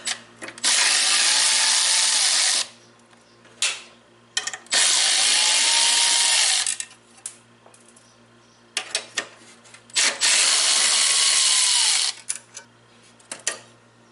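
Power tools unbolting a bracket on a Toyota 2JZGTE engine: three loud, sustained bursts of a whirring, rattling power tool, each about two seconds long, separated by quieter clicks and clanks of handling.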